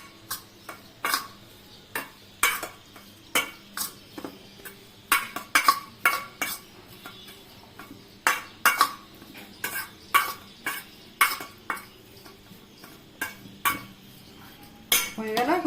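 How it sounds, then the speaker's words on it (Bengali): Soya chunks are mixed with salt and chilli powder in a bowl, giving a steady run of sharp clinks and taps as a utensil strikes the bowl in quick irregular bursts, close by. "একটু নুন দিচ্ছি সামান্য দিয়ে এটাকে মেখে নিব ভালো করে"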